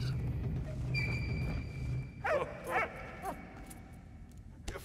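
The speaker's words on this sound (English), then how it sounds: "What was the dog barking at?" Dog in the Valiant Hearts video game, a few sharp barks and yips in quick succession after a low rumbling background and a thin whistling tone.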